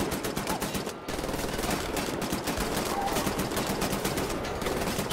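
Sustained machine gun fire in the shooter Wolfenstein: The New Order, a dense, rapid, unbroken stream of loud cracking shots filling the whole stretch, with one brief gap partway through.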